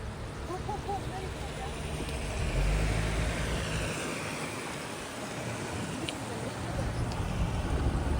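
A road vehicle rolls past at Gravity Hill near Salalah, Oman, a broad steady engine and tyre rumble that swells through the middle and stays continuous, with a voice talking faintly underneath.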